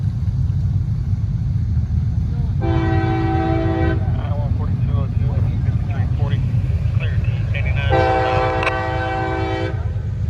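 A northbound train rumbles past loudly and steadily at Main Street as its horn blasts twice, long tones separated by a few seconds, with a voice speaking between them.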